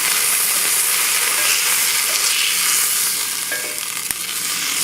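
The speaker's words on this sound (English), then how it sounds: "the searing of the meat" Beef sears in a very hot pan with no added oil, making a dense, steady, loud sizzle that holds without a break, close up with no voices.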